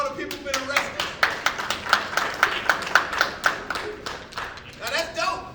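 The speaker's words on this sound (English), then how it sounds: "clap it up for all the people who've been arrested" An audience at a Black History Month gathering claps in a brisk, regular beat, sharp hand claps repeating over murmured voices and talk.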